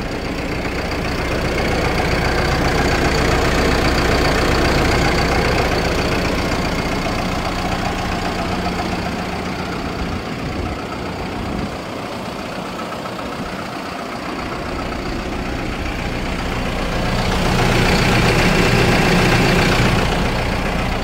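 A Cummins diesel idles in a 2009 KamAZ 4308 truck chassis fitted with a Palfinger crane and ZF six-speed gearbox. It keeps a loud, steady, low knocking rumble throughout, swelling slightly near the end, with no talk.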